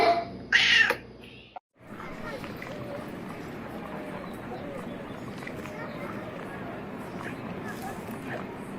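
A cat gives a short, high meow near the start, followed by a brief pause and then steady rustling and shuffling noise close by.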